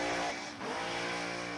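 A 1992 drag racing car at Cayuga dragway, with fuel delivery issues, revs loudly on and off the throttle in a short, continuous burst of harsh engine roar close by.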